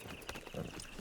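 Horse hooves clip-clop at a steady walking rhythm in Red Dead Redemption 2, moderately close and clear, with no voices over them.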